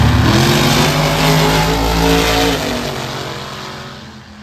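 A 4.70 Outlaw drag race car at Mooresville Dragway launches and accelerates hard, a loud, close engine roar climbing in pitch through gear changes, then fading slightly as it pulls away.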